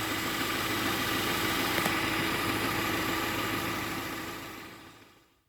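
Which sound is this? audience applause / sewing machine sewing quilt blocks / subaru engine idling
subaru engine idling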